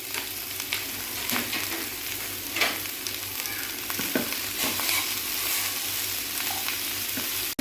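Vegetables sautéing lightly in a pan sizzle steadily up close, with frequent spatula scrapes and ticks over the constant frying hiss.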